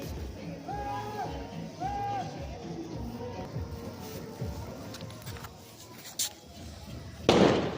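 An anar fountain firework is lit for Diwali on a Makar Sankranti rooftop, with a sudden loud rushing burst near the end after a stretch of crowd noise and nearby talking.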